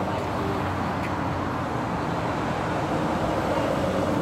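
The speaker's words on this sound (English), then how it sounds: "So, big trucks, noise," Street traffic with big trucks rolls past as a continuous loud rumble and roar, a dense steady wash with no breaks.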